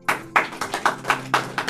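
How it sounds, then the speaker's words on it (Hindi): A church congregation at a New Year sermon claps loudly in rhythmic unison, with crisp, evenly spaced claps repeating quickly and no voices over them. "यस, जोरदार तालियां।"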